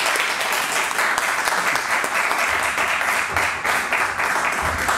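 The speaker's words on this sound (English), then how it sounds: "And once again, a round of applause for Professor Peter Spufford" A lecture audience applauds a professor after a talk on debasement, exchange rates and trade: sustained, loud crowd clapping that holds steady throughout, with no talking over it.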